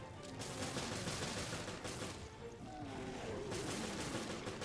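Gunfire in the co-op shooter Resident Evil Revelations, with dense, rapid bursts of shots packed over a continuous noisy game soundscape at moderate level and no clear speech.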